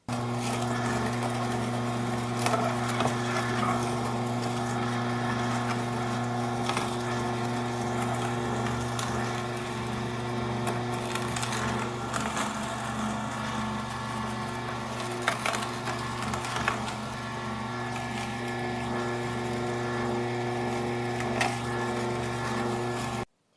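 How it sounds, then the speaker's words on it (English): An Omega J8006 juicer runs continuously while juicing finely cut kale, apples and carrots, giving a steady low motor drone with occasional crunching and knocks from the produce, close and unbroken, with no speech. "this seems to be working fine in the juicer."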